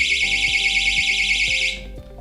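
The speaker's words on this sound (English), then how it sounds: "we can install a big alarm besides the bed of the owner of this phone" A loud, piercing electronic alarm from a homemade anti-theft phone project wails continuously in a steady warbling tone, close and alone, then cuts off abruptly near the end.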